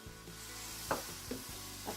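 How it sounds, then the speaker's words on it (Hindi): Chicken and vegetables stir-frying in a pan with freshly added sauces, giving a steady close sizzle broken by a few short stirring scrapes and clatters, with no voices. "अब सॉसेस डालकर हमने इसको और 2 मिनट्स के लिए फ्राई करना है।"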